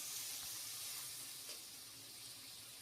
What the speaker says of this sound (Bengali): এখন একটু কষিয়ে নেব।